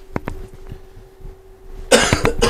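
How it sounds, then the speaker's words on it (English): A person coughs a few times in a short cluster, then a louder harsh burst of coughing follows after a quiet pause, close to the microphone indoors. "Sorry about the coughing"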